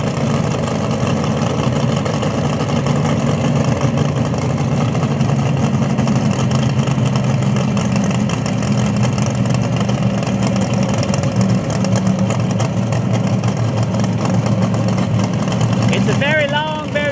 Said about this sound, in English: The Bull, the Canadian alcohol top dragster.